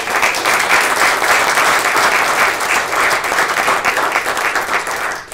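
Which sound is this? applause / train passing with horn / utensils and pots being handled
applause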